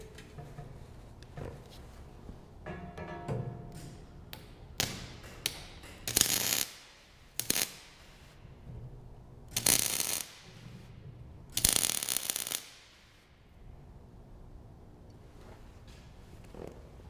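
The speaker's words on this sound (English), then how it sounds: "Using my crescent wrench. Adjust the corner where I need it." A crescent wrench adjusting the corner of a metal fire pit during welding prep, with close metallic clicks, scrapes and ratcheting taps, plus several louder bursts of rough metal clatter and grinding noise between quieter pauses.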